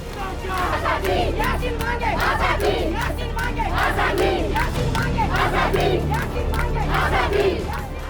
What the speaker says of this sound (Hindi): ये भीड़ उस यासीन मलिक को सजा मिलने का शोक मना रही थी